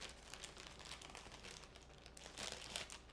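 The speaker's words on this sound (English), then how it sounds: "Then you're going to want to unwrap the new carbon filter from its packaging" A new carbon water filter for a countertop water dispenser being unwrapped from its plastic packaging: close, quiet crinkling and rustling throughout, with a slightly louder crunch of the wrapper near the end.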